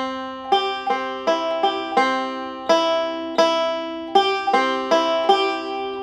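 Five-string banjo picking Oh Susanna with forward rolls and hammer-ons, a steady stream of bright plucked notes in a clear rhythmic pattern, close and alone with no talking.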